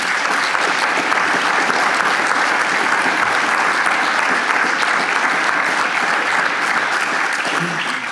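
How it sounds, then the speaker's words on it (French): A room full of attendees at a research-day conference closing gives warm, sustained applause, a dense even wash of clapping that stays loud throughout. "je vous demande à toutes et à tous de l'applaudir très chaleureusement"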